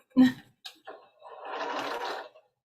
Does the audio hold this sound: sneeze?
no